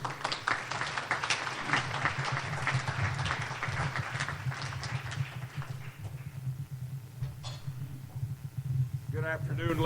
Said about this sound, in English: please, a big round of applause for Robert Murray.